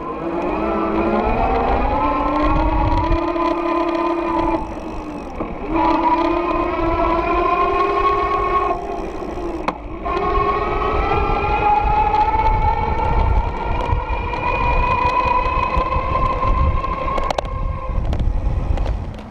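An electric bike motor on an Easy Motion Nitro Cross whines steadily and keeps running with rising and dipping pitch, loud and close throughout, alongside wind and road rumble.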